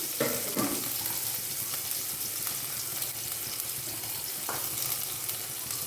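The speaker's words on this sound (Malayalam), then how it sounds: "എണ്ണ ഒഴിച്ച് കടുക് പൊട്ടുന്നുണ്ട്." Mustard seeds pop and splutter in hot oil in a pan, making a steady close sizzle with a few brief louder crackles and no talking.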